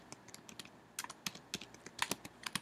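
Someone types a command on a computer keyboard, producing a quick, irregular burst of close, crisp key clicks that fills the whole moment with no voice.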